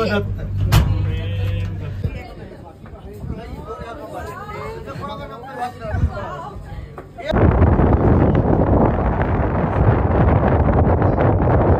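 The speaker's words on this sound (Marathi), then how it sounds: "हवा अशी बेकार हवा सुटली आहे." Strong wind buffets a hilltop at Girnar in Junagadh, Gujarat, first as gusts beneath people talking and crowd chatter, then as a loud, steady roaring rush across the second half.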